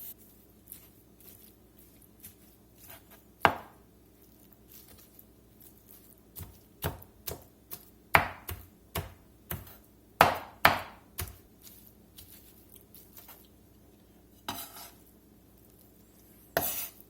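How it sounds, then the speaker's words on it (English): A knife chops braised pork carnitas on a cutting board, sharp isolated chops spaced irregularly at first, then quicker clustered strikes, faint and close, with no talk. "Let's get it chopped up."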